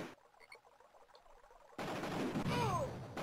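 Gunfire erupts in the Amiga video game Cannon Fodder 2 after a quiet stretch with small blips, a sudden dense burst of shots and crackling explosions with a descending whistle.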